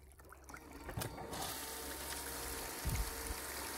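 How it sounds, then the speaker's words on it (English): A small water pump switched on to flush sand out of a metal detecting scoop, giving a sudden burst of gushing, splashing water that keeps running steadily, with a thump and bump near the end and no speech. "just turn this pump on for a second"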